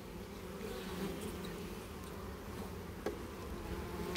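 Honey bees buzz around a beehive entrance, a steady, close hum of many wings with occasional louder passes and faint clicks, no voices.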